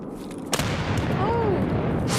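Grenade explosions in Escape from Tarkov, a sharp blast followed by a rumbling boom and another burst near the end, mid-distance, with a faint voice.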